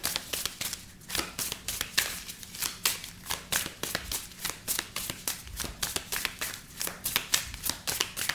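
Tarot cards being shuffled in a steady run of crisp riffling bursts, close and clear, repeating rhythmically with no talking.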